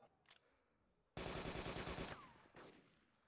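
Gunfire in DayZ: a single faint shot, then about a second of rapid automatic fire in a dense burst, followed by a fading echo and a fainter distant shot, with quiet voices nearby.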